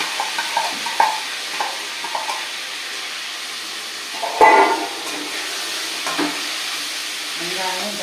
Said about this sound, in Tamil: பச்சை மிளகாய் வச்சுட்டுருக்கேன் அப்படி போடுறேன் வெங்காயம் இந்த கடையெல்லாம் போடுறேன்